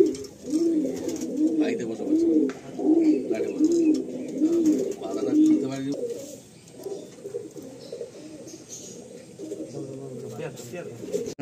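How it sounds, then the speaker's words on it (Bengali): Male pigeons in the cells of a loft coo repeatedly in a regular rolling rhythm close by for several seconds. Then the cooing fades into shuffling and background noise. "এই দুটোই নর পায়রা, এই দুটো নর পায়রা, এগুলো সব সেলে রয়েছে।"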